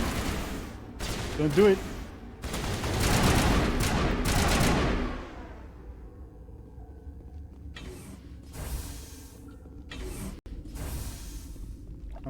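Gunfire in the Mass Effect video game comes as a dense burst of rapid, loud shots in the opening seconds, followed by quieter clanks and scattered mechanical noises while a player speaks briefly.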